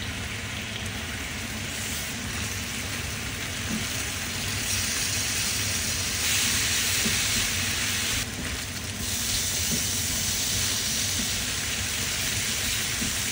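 Steady, dense sizzling of marinated pork on a hot griddle, a close and constant crackling hiss that swells slightly midway with no talking.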